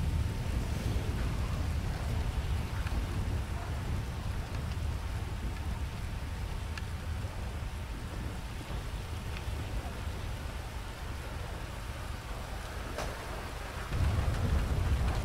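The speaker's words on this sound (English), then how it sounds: "some thunderstorm out there." Thunderstorm in a roleplay game setting, a steady close wash of heavy rain with a low rumble of thunder beneath, swelling louder near the end.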